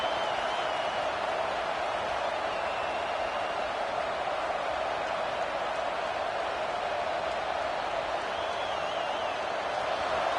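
Steady broadband roar of a large stadium crowd in College Football 26, a home crowd of Bruins fans cheering as the defense pins the opponent deep, continuous and loud throughout with no clear talk over it.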